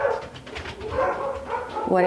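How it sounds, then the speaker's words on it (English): Dogs bark in short bursts at a home garden in Georgia, mixed in with a person speaking nearby. "a video was going to be shot without Bentley and Bella barking"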